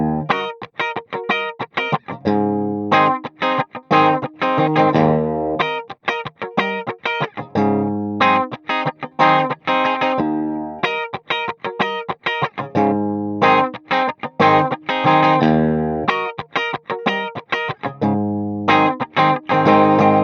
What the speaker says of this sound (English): Next up, we've got a Fender Tweed Deluxe with a custom modified Fender 2x12 cab